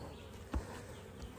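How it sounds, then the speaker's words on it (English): Honey bees buzz around an opened beehive, a faint close hum with a couple of brief louder thumps and bumps from handling. "try to get these bees out of there"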